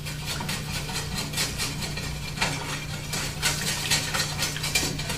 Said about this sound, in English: I have softened butter with a little bit of flour in it, and I'm going to whisk that right into our gravy to thicken it up